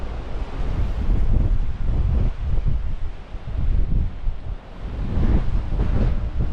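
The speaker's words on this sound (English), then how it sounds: "I don't know if you can hear me with all this wind" Strong wind buffets the microphone on an empty, treeless coast, roaring in uneven gusts that swell and ease, with no voices.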